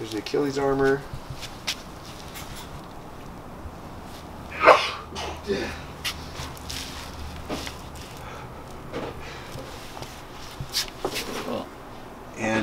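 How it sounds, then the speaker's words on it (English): Sneezing breaks out in the background, one sharp burst near the middle and a few fainter ones, while someone talks near the mic during a review of rugged Warrior Maximus sandals. "if you could hear all that sneezing in the background"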